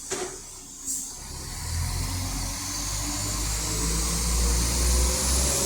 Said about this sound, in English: Anyone want to hear its engine growl?